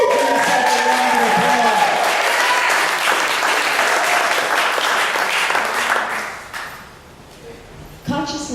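Loud, sustained applause from a church congregation during a Sunday service, with whoops and cheering mixed in. It runs for about six seconds, then thins out before a brief final burst.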